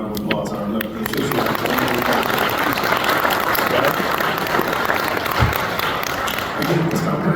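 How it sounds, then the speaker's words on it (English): A round of applause for elected officials at a chamber of commerce knowledge breakfast at Penn State Behrend: dense, continuous clapping from a sizable room, with a voice talking over it. "we just want to take a moment and recognize with a round of applause our elected officials"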